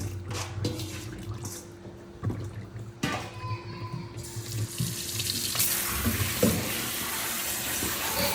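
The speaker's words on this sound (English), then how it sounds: "So this is cold water to stop it from cooking." Cold water runs from a kitchen tap while soup is being made, a steady rushing flow with drips and clatter early on, then a fuller, louder stream near the end.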